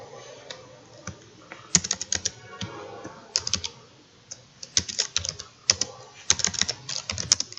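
Irregular bursts of keystrokes on a computer keyboard while code is typed, with quick clustered clicks and short pauses, close and fairly clear.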